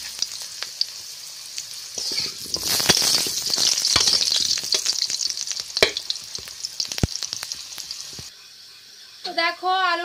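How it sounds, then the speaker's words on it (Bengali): Potatoes drop into hot oil and fry in a pan, a loud crackling sizzle with scraping stirs that fades to a softer hiss, and a voice speaks briefly at the end. "আবার আলুটা ভেজে নেবো"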